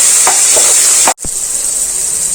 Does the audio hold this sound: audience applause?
no